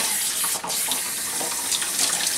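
Tap water pours continuously while a Yorkie is rinsed during a bath, a close, loud and steady rushing spray with slight splashing variations.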